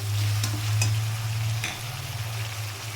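Spice paste with chilli paste fries in oil for a vegetarian cabbage kofta curry, a loud steady sizzle with a low hum beneath and a few quick stirring scrapes.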